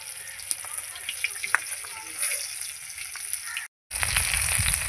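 Snakehead fish head frying in spiced oil, a steady close sizzle with small crackles and occasional stirring, briefly cutting out before the frying resumes louder.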